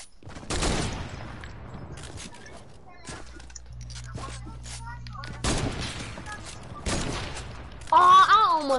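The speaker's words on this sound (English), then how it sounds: "Oh, I almost no-scoped you for real." Sniper rifle shots in a Fortnite match, a few sharp cracks spread across the span with quieter game sounds between them, and a voice briefly reacting near the end.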